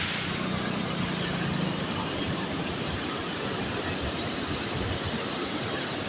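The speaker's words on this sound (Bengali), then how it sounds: "ক্যানেলের জল ছাড়া আছে, এখন ক্যানেলের জল যাচ্ছে। সাউন্ডটা জাস্ট শুনুন" Canal water pours through an open canal gate in a steady, loud, unbroken roar that fills the whole scene, with no voices over it.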